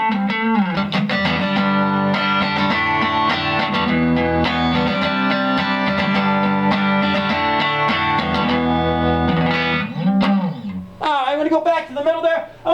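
Clean electric guitar on the neck pickup through a vintage Rickenbacker TR14 amp, strummed chords ringing full and warm for several seconds, then a few scattered notes and string slides near the end.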